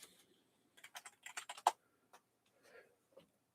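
Quick bursts of keystrokes on a computer keyboard, a cluster of close, crisp clicks followed by a few scattered taps, faint and otherwise quiet.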